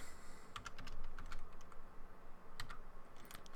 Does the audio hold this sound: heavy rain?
no